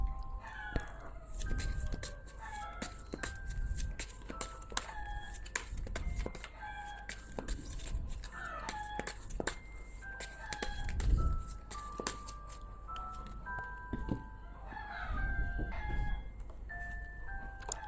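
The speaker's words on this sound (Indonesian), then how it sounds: "Sorry kalau kamu dengar ribut suara ayam, ya." Chickens cluck and a rooster crows again and again, with short calls scattered across a busy backyard soundscape and several crows standing out over a low rumbling background.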